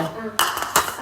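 A metal cooking pan is lifted in a home kitchen, giving two short, close clanks about a third of a second apart over quiet room tone.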